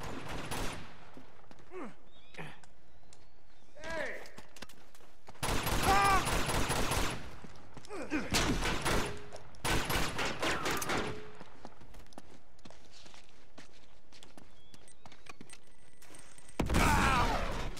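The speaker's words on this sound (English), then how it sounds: "Who's actually still firing?" Gunfire from Uncharted 2: Among Thieves, with several bursts of rapid shots several seconds apart and quieter single shots in between, heard over a dim game background.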